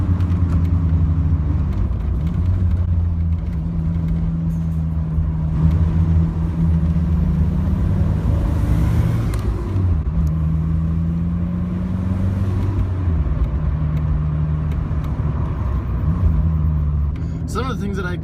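A Merkur car engine drones steadily while driving on twisty roads, a loud low hum that rises and falls with the throttle and persists throughout.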